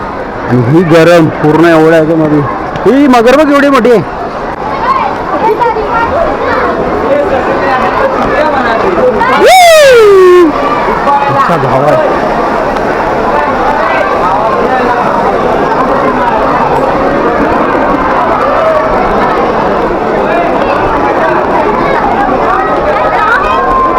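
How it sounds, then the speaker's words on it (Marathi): A large Sunday crowd fills Rani Baug zoo in Byculla, a dense, steady hubbub of many voices all around, with some nearer talk at the start and a brief sharp whistle-like sweep partway through. "गर्दी बघा एवढी"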